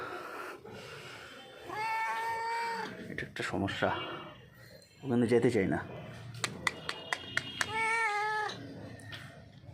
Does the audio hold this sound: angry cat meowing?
yes